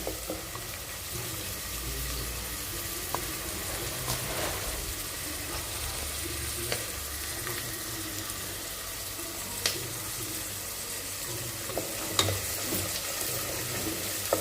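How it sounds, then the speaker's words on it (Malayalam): Peas, onion and carrot fry in hot oil for a Bangalore-style rice bath, giving a steady, close, crackling sizzle with occasional light clicks of stirring throughout. "എണ്ണ ചൂടായിട്ടുണ്ട്. ഞാൻ അതിനകത്തോട്ട് പട്ടാണിയും സവാളയും ക്യാരറ്റും ഇട്ട് കൊടുത്ത്"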